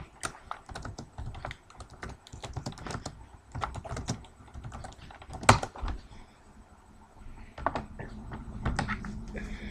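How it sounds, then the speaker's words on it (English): Rapid, uneven clatter of keys on a computer keyboard, close and fairly quiet, with a few louder taps and a brief thump near the end. "just type it in."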